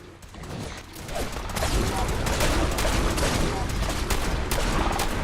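An automatic weapon in the Fallout 4 video game fires a sustained, dense burst of rapid shots, loud and close, after a brief quieter lead-in, with a voice faintly underneath.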